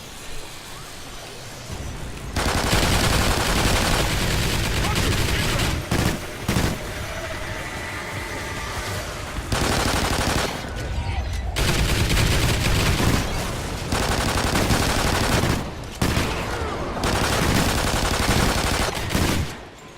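Venom X weapon fire in the Call of Duty Extinction game, with loud sustained bursts of rapid gunfire broken by short pauses over about twenty seconds.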